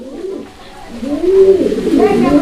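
Fancy pigeons at a small hobby farm coo in low, throaty, rolling phrases, close and fairly loud, with a brief dip before the cooing swells again and repeats.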